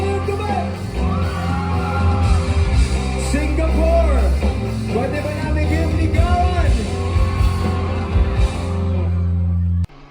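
A large crowd at a live concert in Singapore screams and cheers loudly and continuously, with shouts and whoops rising over music playing underneath.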